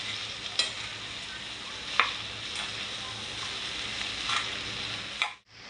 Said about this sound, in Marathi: व्यवस्थित भाजी मिक्स करून घेतली मी